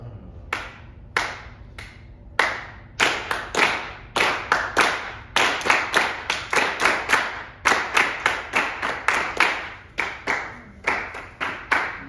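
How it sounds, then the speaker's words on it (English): A group claps hands in a rhythm exercise during a rehearsal, with sharp, close claps coming first sparse and then in a dense, steady pulse that keeps going for several seconds. "it's very hard when you're clapping to hear my clapping"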